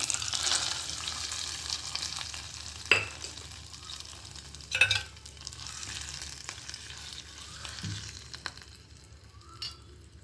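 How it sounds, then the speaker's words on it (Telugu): Urad dal, dried red chillies and curry leaves sizzle in hot oil as a tempering, a steady soft frying hiss with a few sharp scrapes and taps of a stirring spoon, no voices. "ఇంకా తాలింపు వేసేస్తున్నామండి."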